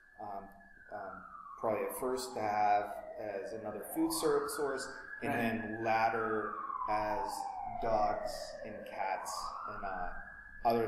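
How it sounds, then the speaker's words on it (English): City emergency sirens wailing outside, rising and falling in long sweeping cycles under a man's close, steady speech. "And excuse the sirens, just an urban inconvenience"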